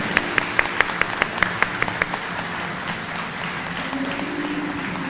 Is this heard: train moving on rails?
no